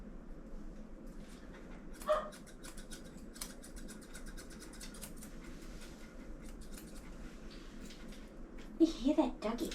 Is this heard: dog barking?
yes